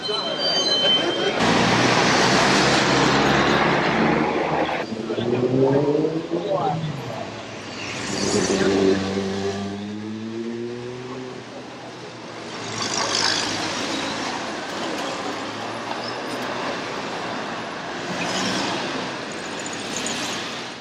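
Trams rumble and squeal past along a busy boulevard in Bulgaria, with steady traffic noise throughout and a sweeping wheel screech rising and fading midway.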